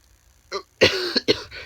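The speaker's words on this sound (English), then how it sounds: "Got my cough." A soft first cough, then two louder, harsh coughs in quick succession, close and clear with no talking.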